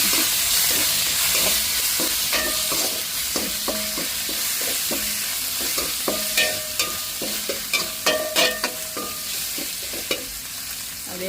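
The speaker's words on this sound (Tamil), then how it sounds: "அந்த குழம்புக்கு நல்லா உள்ளியை போடுவாங்க அப்படியே தாளிச்சு" Garlic fries for tempering in a pan, a steady sizzle under repeated light scraping and clinking as a spoon stirs it, the stirring strokes becoming more frequent toward the end.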